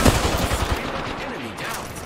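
Rapid gunfire in Apex Legends, a steady string of close shots under game noise and a player's voice.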